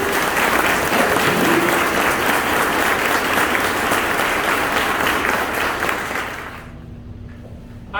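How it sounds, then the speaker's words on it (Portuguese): Church congregation applauding together at an adult confirmation mass, a dense steady clapping that fills the room for several seconds, then quickly dies away into quiet. "Aplaudir, né, gente?"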